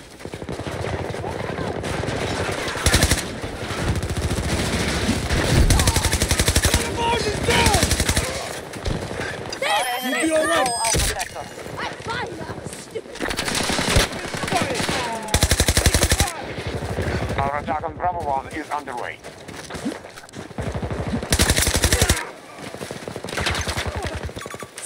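Heavy gunfire in the shooter game Battlefield 2042: sustained machine-gun bursts and rapid rifle shots crackle almost nonstop, near and loud, with brief gaps and shouted voices mixed in.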